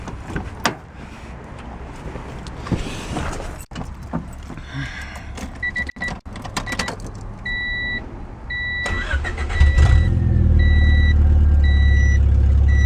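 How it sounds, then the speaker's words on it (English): Keys jingle and a dashboard chime beeps repeatedly, then a car engine that has sat unused for a few days cranks and catches, settling into a loud, steady rumble. "I haven't started this car in a few days, so we're gonna do that right now"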